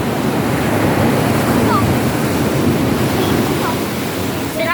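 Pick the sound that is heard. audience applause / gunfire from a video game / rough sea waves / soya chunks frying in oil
rough sea waves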